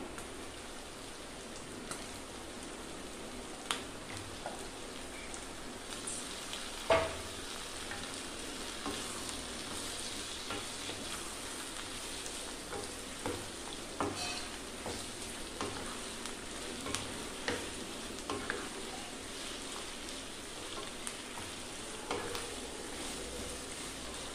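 Mutton liver frying with softened onions in hot oil, a steady close sizzle lasting throughout, broken by occasional soft clicks and scrapes of stirring, with no one talking.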